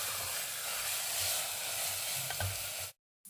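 Chicken curry with ground spices sizzles and fries in a pot while being stirred, a steady close hiss with scraping, ending in a short abrupt silence.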